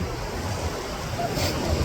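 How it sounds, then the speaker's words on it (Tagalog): Steady surf roar of strong waves at Balagbag Beach in Real, Quezon, with a brief louder wash of a wave breaking, wind rumbling against the microphone throughout. "Lakas ng alon guys."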